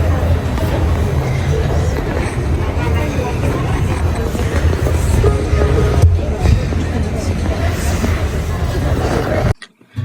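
A train pulls into a station in Japan, a loud continuous rumble and clatter filling the space, with indistinct voices mixed in before a sudden drop to near silence at the end.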